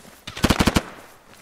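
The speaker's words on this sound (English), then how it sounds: "Is that enemy fire? No, that's friendly fire." A short burst of about five rapid shots from friendly fire in a military video game, close and sharp, then quiet.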